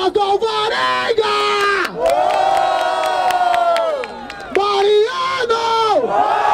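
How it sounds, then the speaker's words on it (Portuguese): Audience at a freestyle rap battle in Barueri, São Paulo, roars and chants in loud, sustained waves of cheering and whooping, swelling and dipping in several bursts with shouted voices carrying over the crowd. "Barulho para as rimas do Alvarenga!"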